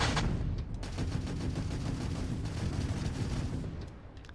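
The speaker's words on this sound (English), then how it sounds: "I'm just gonna fire off the weapons a little bit" Spaceship weapons firing in a space video game from a UC Lancer build: a loud, continuous barrage of rapid ballistic shots and booms that holds for about four seconds before tapering off.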